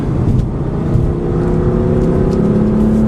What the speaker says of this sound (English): there is just a slightest hint of turbo lag as I'm flogging this car